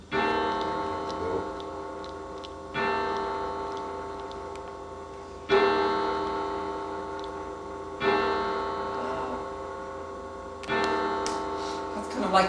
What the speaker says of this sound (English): And do you think we could hear this one chime, Richard?